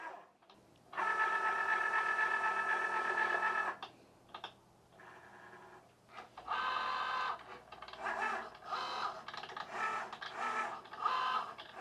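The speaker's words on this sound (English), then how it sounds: "The Joy Xtra does have a sensor, so it can do print then cut." A Cricut Joy Xtra cutting machine works through printed stickers, a mechanical whirring hum with a sustained stretch followed by shorter stop-start motor bursts, close and alone.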